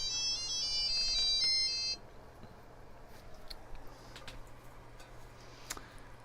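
A phone alarm ringtone chimes a bright, repeating melody for about two seconds and then stops, leaving a quiet room with faint ticking and soft background noise.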